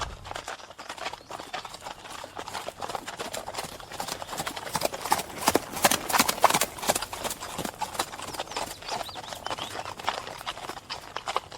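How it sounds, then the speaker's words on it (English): Horse hooves clip-clop in a steady, fairly close rhythm on a trail ride, with a second horse approaching, continuous and moderately loud throughout with no talking. "Do you think that was one of their horses?"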